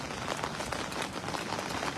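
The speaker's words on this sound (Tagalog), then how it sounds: "Umuulan dyan Idol Ran." Steady rain pours during a daytime fishing outing, a dense even hiss of drops striking surfaces that stays loud and constant from start to finish.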